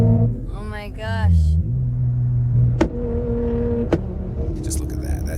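Supercar engines rev on a street in Dubai, with rising and falling snarls followed by two sharp, loud exhaust backfire cracks, close by and loud, with people talking nearby.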